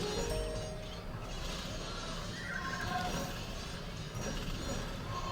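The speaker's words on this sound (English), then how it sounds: "where are these horses coming from?" Horses whinny amid the clatter of battle in Age of Empires II, with a couple of nickering calls over a steady, dense bed of game combat noise.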